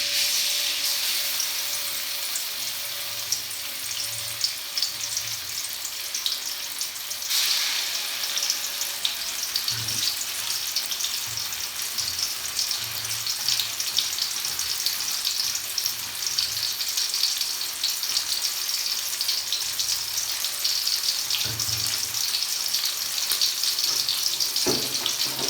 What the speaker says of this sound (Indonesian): Siapkan minyak di dalam wajan, panaskan minyak. Setelah minyak panas, masukkan sambal terasi ke dalamnya.